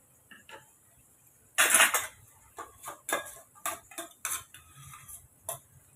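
Ground masala being stirred into a pot of dried stick-fish and bottle gourd curry, heard as a run of quiet, irregular clinks and scrapes of a metal spoon against the pot, with one louder clatter early on.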